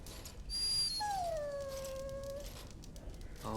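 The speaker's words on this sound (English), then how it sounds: "Bloody dog." A dog in the Dragon Age Origins video game lets out a single drawn-out whimpering whine, faint and plaintive, falling slightly in pitch, over quiet background.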